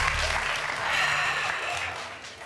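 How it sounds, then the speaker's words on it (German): Studio audience applause for a school team on a TV quiz show, steady dense clapping throughout a short burst. "Großen Applaus!"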